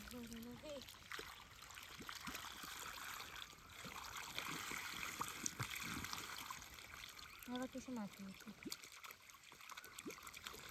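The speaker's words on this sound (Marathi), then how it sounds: "पाणी आलं या तोंडाला." Water gushes steadily from the open end of a drip irrigation pipe in a farm field, a continuous splashing trickle with people talking nearby over it.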